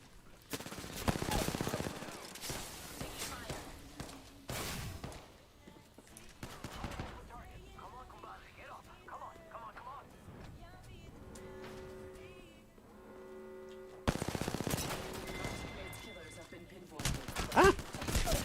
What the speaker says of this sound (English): My Octane friend is firing